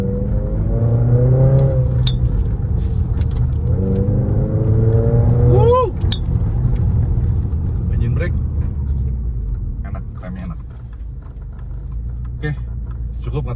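A 2023 Subaru WRX TS, a rally-based car, revs and pulls hard from inside the cabin, its engine note climbing in repeated sweeps over a steady low rumble, loud and close throughout.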